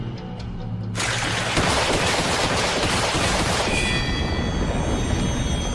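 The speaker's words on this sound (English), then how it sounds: "That weapon could be loaded with unlimited ammo thanks to Fushi's ability." Loud, sustained rapid gunfire from an anime weapon with unlimited ammunition, starting abruptly after a second of quieter noise and continuing as a dense, unbroken barrage to the end.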